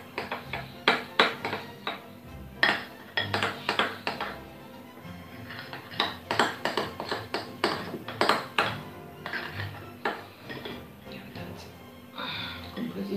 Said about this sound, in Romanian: Amestecăm bine toate ingredientele cu aromele.